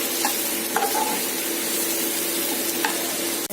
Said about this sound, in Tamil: இந்த ஸ்டேஜில் தக்காளி வந்துருக்குங்க. நல்லா மேஷ் ஆகிடணும் வெங்காயமும் தக்காளியும். அதளவுக்கு நல்லா வதக்கி விட்டுருங்க.